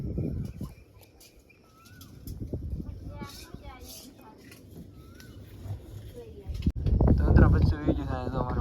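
Pet pigeons in a home loft setup cooing softly in short rolling calls, followed near the end by a loud burst of flapping wings close by, with someone speaking throughout.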